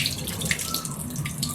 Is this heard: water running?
yes